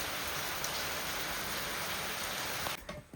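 Steady rain falls, a dense, even hiss of drops that stays loud and constant before it thins out abruptly near the end.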